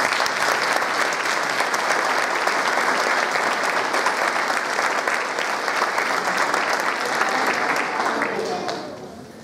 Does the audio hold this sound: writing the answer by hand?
no